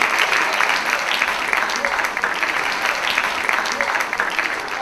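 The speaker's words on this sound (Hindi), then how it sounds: "भाई ज़बरदस्त क्लैपिंग होनी चाहिए।" Sustained applause from a large audience at a debate event, a dense, steady wash of clapping that holds at full volume throughout.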